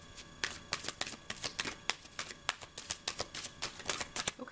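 Playing cards being shuffled close up, a fast run of crisp riffling bursts and flicks repeating steadily throughout with no talk.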